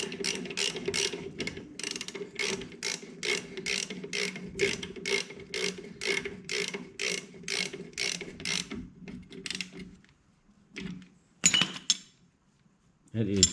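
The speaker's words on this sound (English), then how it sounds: "So we're gonna tighten this down" Ratchet wrench tightening a bolt on a 1960s VW Beetle front spindle, a close run of about twenty even metallic clicking strokes that slows and stops, then a few clinks of tools.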